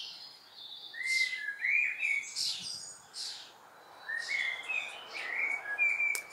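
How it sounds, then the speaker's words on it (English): Birds singing in a garden: several light chirps and whistled phrases in irregular bursts, moderately close, over a quiet background with no talking. "I'm sitting out in my garden today just listening to the birds."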